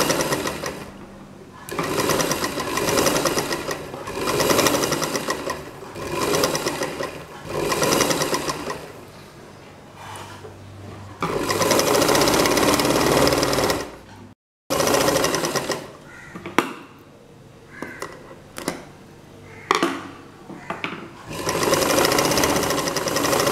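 Sewing machine stitching two layers of cloth together for a double-layer face mask, running in steady bursts with brief pauses between seams, close and loud with no talk.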